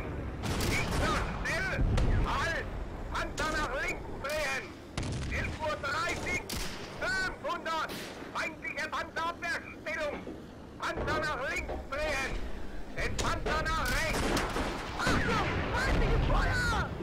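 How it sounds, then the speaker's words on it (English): Anti-tank gun and other weapons firing in a Steel Fury Kharkov 1942 tank battle, repeated loud booms and bursts of gunfire throughout, heard under nearly continuous talking. "anti-tank gun right there"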